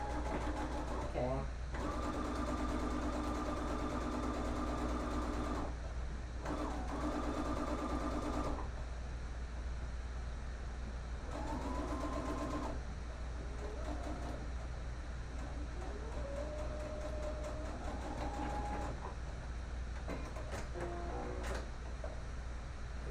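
Sewing machine back stitching a 3D fabric face mask, running in several short bursts of rapid whirring stitches separated by pauses, close and fairly loud.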